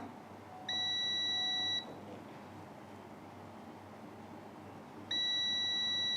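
Two steady electronic continuity beeps from a multimeter probing package resistors on a mobile phone board, each lasting about a second, separated by a few seconds of quiet room noise.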